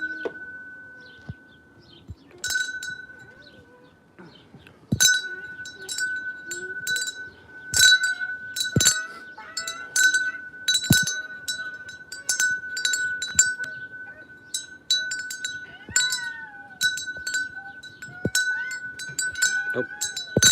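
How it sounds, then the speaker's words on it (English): Solar-powered wind chimes ring with a sustained, humming tone, punctuated by scattered bright clinks and taps that come and go irregularly. "Oh, we've got the chimes right here."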